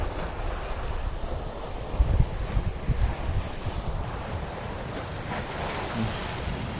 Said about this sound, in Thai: ดูคลื่นที่กำลังซัดซา